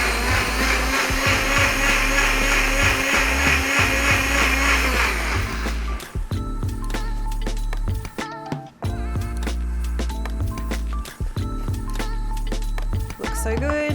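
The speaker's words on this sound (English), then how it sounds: "All we're going to do is throw it all into the blender and blend it up." A blender whirring loudly as it blends watermelon, shredded coconut and half a banana into a smoothie, a steady high motor drone that changes pitch partway through, with clattering and knocking as contents churn.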